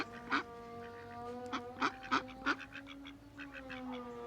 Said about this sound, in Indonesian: Ada kawanan angsa nih.